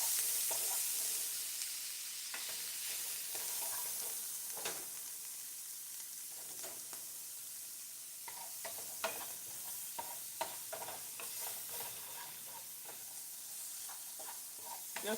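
Shrimp and tomato pasta sauce with green pepper, parsley and garlic powder cooking down in a pan, with a steady soft sizzle and repeated stirring scrapes throughout, no voices.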